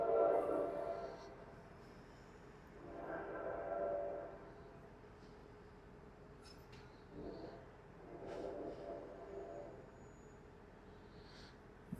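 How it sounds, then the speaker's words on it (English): Distant passing train heard during a livestream, with faint horn-like tones swelling and fading three times over a low steady rumble, far off and quiet. "Sorry about the train noise."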